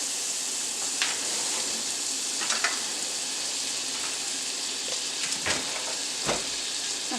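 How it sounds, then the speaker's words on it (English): Butter sizzles steadily in a hot pan while cooking chicken, a constant close hiss with occasional small pops and a few light clinks. "See, you hear that sizzle?"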